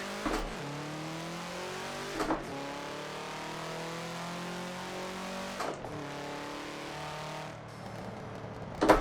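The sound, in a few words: car engine revving after stall in Forza video game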